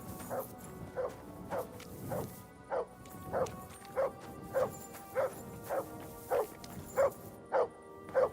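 A dog in Kingdom Come: Deliverance II barks in a steady series of about fourteen sharp, evenly spaced yelps at moderate distance, with faint background ambience and no speech.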